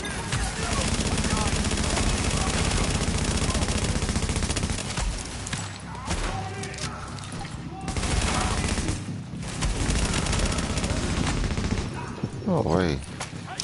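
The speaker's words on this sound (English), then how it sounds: "he's shooting from way back there" Dense, rapid gunfire in a shooter video game crackles almost without pause, with sustained bursts of shots that briefly thin out before resuming loudly.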